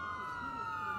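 An ambulance siren in the Watch Dogs 2 video game sounds as a loud, sustained wailing tone over a low traffic rumble, filling the whole brief moment.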